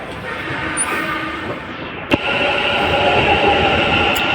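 A metro train rolls into a station with a steady rumble of wheels and rail that builds slightly toward the end, broken by one sharp click near the middle, with no talk over it.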